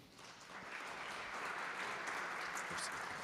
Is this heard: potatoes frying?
no